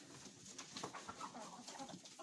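Hens settling onto nest boxes inside a backyard chicken coop give off soft, scattered clucks and low murmurs, steady and fairly faint throughout, with no talking.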